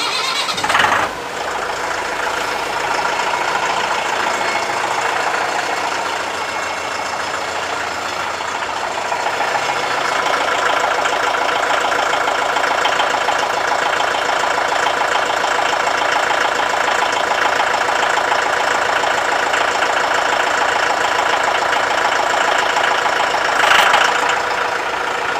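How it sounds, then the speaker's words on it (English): A compact tractor engine cranks and catches near the start, then settles into a steady, loud, close idle that runs on with a rough, knocking rumble. "one of my favorite things about our tractors is that it does sound like a real tractor."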